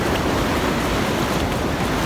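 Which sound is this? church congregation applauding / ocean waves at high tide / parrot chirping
ocean waves at high tide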